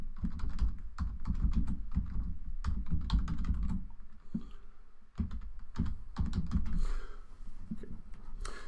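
Text is typed on a computer keyboard while building a chart in incident-analysis software: fast, close clatter of keystrokes in bursts with brief pauses, steady and loud, with no talking.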